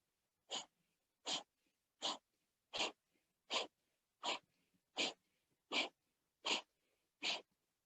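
Ten forceful, evenly spaced exhales during a breathing exercise, each a short loud burst of breath about three-quarters of a second apart, close and alone with silence in between.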